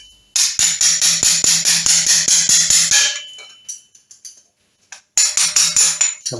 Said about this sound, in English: going to use a drift, which in my case is an old screwdriver. Just bend that tab out.